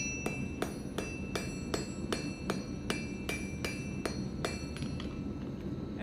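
A hammer forge-welds 3/8 inch steel stock while a fire poker is being made, with about a dozen sharp, ringing metallic strikes in a steady, quick rhythm, close and clear over a low roar of background noise.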